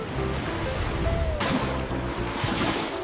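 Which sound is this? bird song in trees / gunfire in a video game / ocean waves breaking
ocean waves breaking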